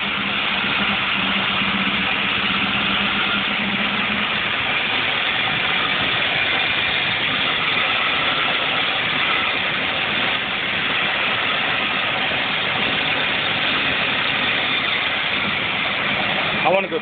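A 267 V8 engine runs right after a carburetor rebuild, a steady loud rumbling idle that holds evenly throughout, close to the listener, with voices heard over it.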